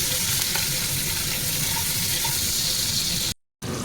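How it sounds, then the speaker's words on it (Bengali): Prawns coated in salt and turmeric fry in hot oil while being stirred, a loud, steady crackling sizzle close by that runs on until a sudden brief cut and then resumes. "নুন হলুদ মিশিয়ে রাখা চিংড়িগুলোকে ভেজে নেব"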